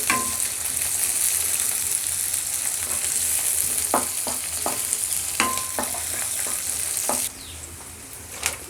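Chopped green chillies fry in a pan, giving a steady loud sizzle with scattered sharp pops and crackles and a few utensil clicks, without any voices.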